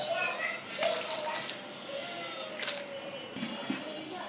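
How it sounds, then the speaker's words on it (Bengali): Two mugs of water poured into a pan of sautéed radish to make the gravy for a fish and radish curry, a soft, steady trickle and splash at low volume throughout. "আমি এখানে 2 মগ পানি দিয়ে দিলাম।"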